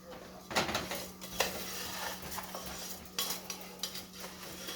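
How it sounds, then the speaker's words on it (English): Rice toasting in a pan while a utensil stirs it, producing scattered scrapes and clinks against the metal over a low hum and a faint sizzle, close and fairly quiet. "So we want to keep this rice stirred as we are toasting it."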